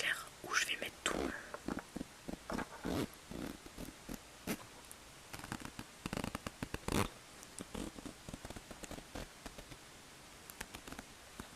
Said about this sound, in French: je vais ouvrir sa tête pour vous montrer parce qu'il y a une petite fermeture éclair